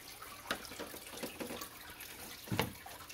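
Water running from a tap while fish tank filters are rinsed, a soft steady splashing and trickle with a few louder splashes, close and fairly quiet, no voices.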